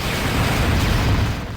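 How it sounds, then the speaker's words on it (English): The Helix Cannon in the space shooter game Descent Vertigo fires in a dense, continuous roaring blast that holds loud and unbroken throughout. "And this is the last hurrah of the Helix Cannon."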